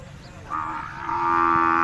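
Cattle at a livestock market in rural Thailand give a sustained, loud moo that swells and holds over the last half, with faint low-end crowd and yard noise beneath.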